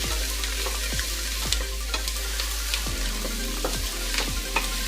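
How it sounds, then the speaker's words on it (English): Onions fry in a pan with a steady close sizzle, while a utensil scrapes and stirs through them in repeated strokes about every second or so. "what I'm doing at the moment is heating up the onions, stirring them in"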